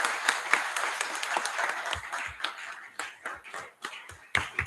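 A conference audience applauds with a crowd of overlapping hand claps. The sound comes in uneven bursts that swell and thin out, fairly close and loud.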